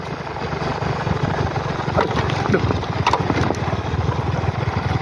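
A motorcycle engine rumbles steadily close by at night with bumpy, rhythmic knocking as it rides, and voices talk over the ride noise.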